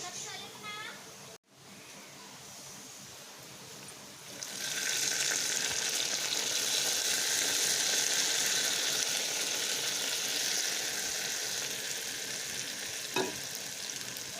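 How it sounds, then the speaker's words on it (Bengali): Hot browned bagar tempering poured into a pot of beef trotter nihari, a quiet start giving way to a loud, sustained sizzling hiss that carries on close and steady. "আমি এবার এটাকে নেহারির সঙ্গে মিশিয়ে নিচ্ছি"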